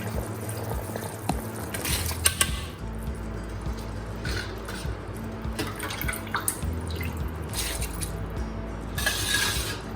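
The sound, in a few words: rice being added to boiling water for chana pulao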